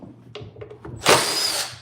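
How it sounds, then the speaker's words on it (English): A power drill bores into a wooden cabinet drawer while drawer faces are being installed. A few light taps come first, then one loud, close, sustained whirring burst. "So now, I can actually drill."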